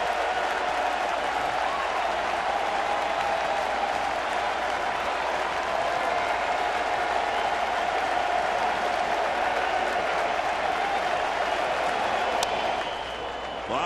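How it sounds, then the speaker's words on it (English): A baseball stadium crowd at an NLDS playoff game stands, cheering and applauding as a steady, loud roar that holds for about fourteen seconds, dense and continuous with no clear individual voices. "Crowd on its feet."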